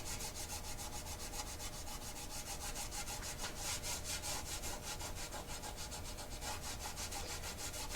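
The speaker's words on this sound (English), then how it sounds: "I'm going to rub on this for a little while and see what kind of work I can do" Steady hand rubbing and scrubbing to strip old house paint from a vintage advertising sign, a continuous rasping scrape that runs evenly and close for the whole stretch with no talk.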